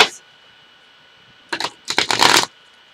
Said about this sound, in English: Let me see how it shuffles.